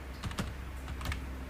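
Java code being typed on a computer keyboard in a quick, steady run of soft key clicks, close by, with a few slightly louder taps and no talking.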